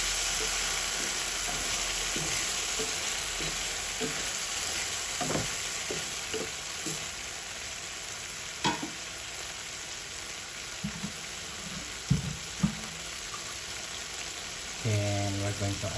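Fried sardines in sauce being stirred in a pan, with a steady sizzle and repeated scraping knocks of the utensil, plus a brief clatter near the end.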